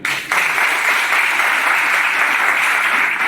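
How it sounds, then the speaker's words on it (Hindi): A large audience at a direct-selling business talk bursts into loud, dense applause that holds steady and unbroken for several seconds. "जोरदार तालियां से"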